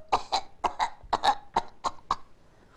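A person imitates a basset hound's hacking cough: about nine short, harsh bursts in a quick, uneven rhythm, close and fairly loud.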